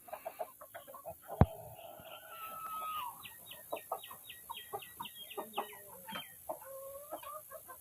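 Chickens in a backyard coop cluck and squawk in quick uneven bursts, several birds close by with a few sharper calls and a sudden knock, no talk over them.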